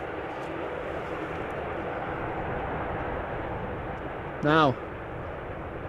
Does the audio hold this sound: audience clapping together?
no